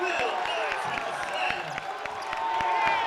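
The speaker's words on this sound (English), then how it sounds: "This crowd is loving it." Basketball arena crowd roaring and cheering steadily after a slam dunk in a men's college game against SAU Tech, a dense sustained wash of voices with sharp shoe squeaks or bounces punctuating it and an announcer talking over the top.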